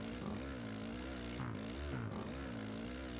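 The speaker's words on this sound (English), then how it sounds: "I hear engine, so we must be getting close." Motocross bike engines in the video game MX vs ATV Supercross Encore drone and rise in pitch, a steady faint buzz of revving motors with no one talking.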